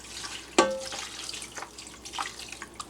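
Water is poured into a container beneath the pan for freeze-drying a catfish meal, starting with a sharp splash and followed by scattered trickles and drips at close range.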